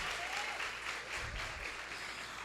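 Audience applause at a Christian women's church event: a steady, dense wash of clapping that carries on evenly, with no break, at moderate volume throughout.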